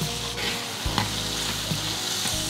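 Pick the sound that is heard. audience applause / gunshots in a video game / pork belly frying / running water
pork belly frying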